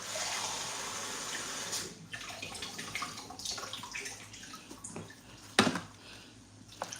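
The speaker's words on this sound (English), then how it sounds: "So I'm going to add some water just for me to blend it." Water is poured into a blender holding bananas and flowers for garden compost, a continuous splashing pour with a few louder sloshes and drips toward the end.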